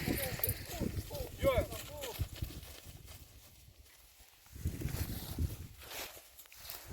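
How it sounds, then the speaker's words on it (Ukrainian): A dark bay mare's hooves clop at an unhurried walking pace with people talking over them, the steps fading out midway before resuming. "Червоно-темна кобила."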